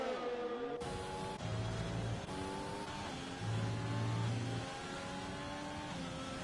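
A racing video game car engine whines in the pit lane, its revs rising and dropping in short bursts with a low buzzing tone, loud and close.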